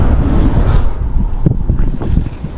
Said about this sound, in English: wind off my back